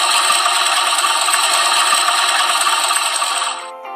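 A motorcycle engine with a faulty, worn and poorly lubricated cam chain tensioner runs close and loud with a dense, steady metallic rattle and clatter, cutting off abruptly near the end.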